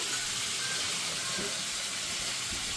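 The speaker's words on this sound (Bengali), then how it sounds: "আমি এটার মধ্যে একটু জল দিয়ে দিলাম একটু ভালো করে কষার জন্য।" Water added to a hot pan of puishak thorkadi with pumpkin, potato and crab hisses and steams in a steady, even wash, moderately loud and close, continuing throughout with a faint voice underneath.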